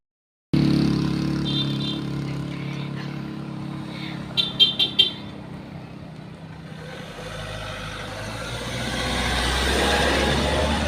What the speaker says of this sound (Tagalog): Ayan, may kotse.